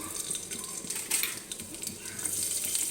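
Green chilies fry in a little oil in a pan with a continuous close crackling sizzle and occasional louder spits, with no talk.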